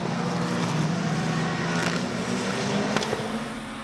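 BMW M-Power race cars accelerate together off the start of a club race. A loud, continuous engine roar and drone fills the track, with a brief sharper burst near the end as the pack pulls away.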